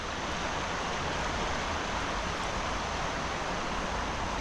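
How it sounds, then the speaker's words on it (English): Water rushing over a small weir in a stream in Tregargus valley, Cornwall, a loud, steady, broadband roar from close by, unbroken and with no voices. "Sudden little weir. I could hear the sound of the water before I got to it."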